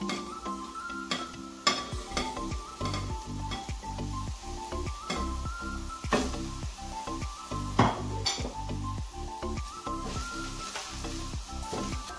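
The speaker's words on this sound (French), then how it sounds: "nous allons mettre les oignons et les ndembi" Onions and ndembi frying in hot oil, a continuous close sizzle with occasional stirring scrapes, heard beneath steady background music.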